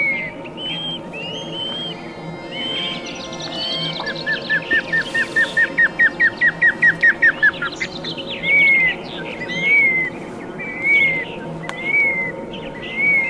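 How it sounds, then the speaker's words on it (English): Birds chirping outdoors: a rapid run of repeated high chirps, then several separate whistled calls, over a steady background of insect buzz. "Listen to those birdies chirping."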